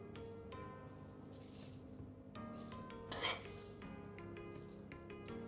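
Prawns tossed into a pan with yellow and red capsicum for san choi bao, with soft sizzling, stirring and a few clinks of utensil on pan, fairly quiet and without talk.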